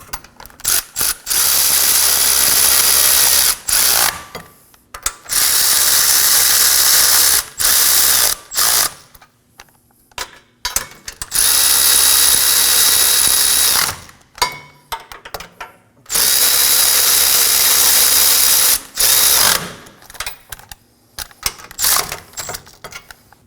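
Air ratchet snugging up the wheel hub bolts on a 2014-2020 Acura MDX rear hub assembly, loud and close: several long, steady whirring runs separated by short pauses and brief clicks.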